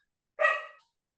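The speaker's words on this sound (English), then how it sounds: "Dog's not happy." A single close, loud dog bark, one short harmonic burst standing alone against silence.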